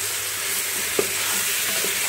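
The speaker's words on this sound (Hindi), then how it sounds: "आलू डालकर हमने इसे अच्छी तरह से भून लेना।" Potatoes and beef frying together in a pan for beef curry: a loud, even hiss of sizzling oil with a single stir or scrape about midway, heard alone without speech.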